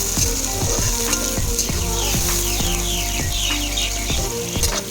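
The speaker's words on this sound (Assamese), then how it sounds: "তাৰপাছতে এতিয়া মই পিঁয়াজখিনি যোগ কৰি দিলোঁ।" Onions sizzle loudly in hot oil with panch phoron in a pan, a steady, close frying crackle with repeated scraping stirs throughout.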